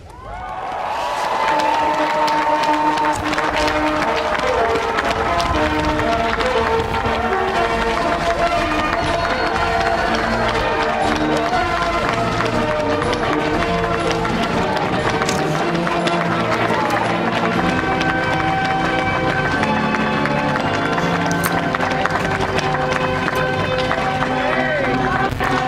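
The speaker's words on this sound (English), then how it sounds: "Those cheers you hear are women, black and white, all around the world cheering for Kamala Harris." A large crowd cheers and applauds continuously for Vice President-elect Kamala Harris at a presidential inauguration, a steady loud roar of voices and clapping with music playing throughout.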